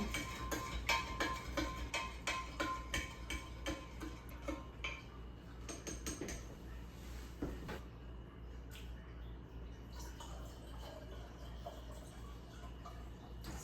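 A spoon stirring sugar into a gallon of tea for kombucha, a quick rhythmic run of light clinks against the container that slows and fades into softer swishing, faint and close.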